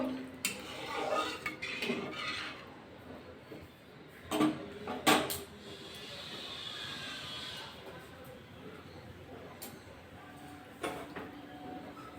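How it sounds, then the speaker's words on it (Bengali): Metal utensil stirring chili powder into a fish curry in a pan, heard as scattered scrapes and sharp clinks against the metal with a low sizzle underneath and quiet gaps between strokes. "একটু শুকনো লঙ্কার গুঁড়ো একটু নাড়িয়ে নেবো"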